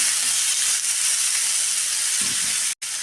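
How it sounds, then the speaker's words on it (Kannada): Tomatoes frying in a spoonful of oil in a pan for chutney, a close steady hiss and sizzle throughout with one brief dropout near the end, no talking. "ಒಂದು ಸ್ಪೂನಷ್ಟು ನಾವು ಎಣ್ಣೆ ಹಾಕೊಂಡ್ಬಿಟ್ಟು ಫ್ರೈ ಮಾಡಿದರೆ ತುಂಬ ಚೆನ್ನಾಗಾಗುತ್ತೆ"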